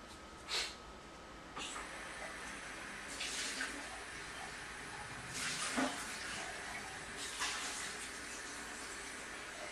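Water runs from a tap in intermittent bursts, with a steady faint hiss between louder splashy surges, recorded close by during a workout break.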